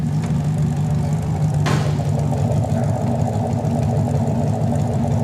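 A Datsun 240Z Z-Beast restomod engine idles nearby with a steady, loud low rumble and one brief higher burst partway through.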